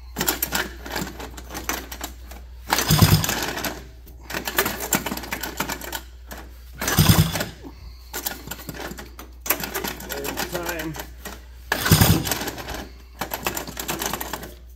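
Vintage Honda Odyssey engine being pull-started for a compression test, three loud rattling pull bursts spaced several seconds apart over a clicky, mechanical background, close by.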